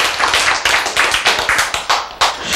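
An audience claps in a quick, fairly even rhythm, a dozen or so sharp, close beats over a couple of seconds, with no voices.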